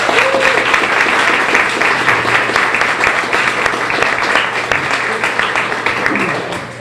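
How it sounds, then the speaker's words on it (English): Loud, steady applause from an audience at a science cafe event, a dense wash of clapping filling the room for about seven seconds before tapering slightly at the end. "I think we should give them a round of applause"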